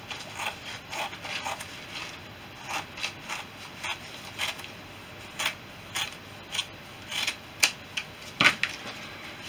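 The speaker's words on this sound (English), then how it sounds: "grab the scissors. Cut around on the mark that I've put on the" Scissors cut a plastic sheet along a marked line for a Fisher Youngster cowl, making a run of short, crisp snips and crackles at an uneven pace, close and fairly quiet, with no talk.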